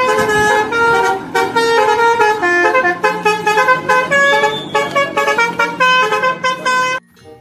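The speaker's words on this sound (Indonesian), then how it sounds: "Ada mobil bus telolet." A toy bus plays a loud, melodic telolet horn tune, a run of bright repeated musical toots that continues for several seconds before cutting off abruptly, with no talking over it.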